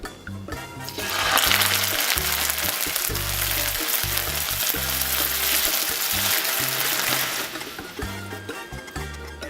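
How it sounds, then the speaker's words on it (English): Black soy beans hit hot lard in a skillet with a loud, sudden burst of sizzling that holds steady and splattery, then eases slightly near the end, with no talking. "carefully add your beans to this. But be careful, it might get really splattery and sizzly"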